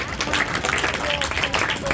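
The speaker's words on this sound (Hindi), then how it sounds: "बहुत अच्छी बात, तालियां इसके लिए" A burst of group clapping from a class of children, steady and dense throughout, fairly loud and close, like a small room of people applauding together.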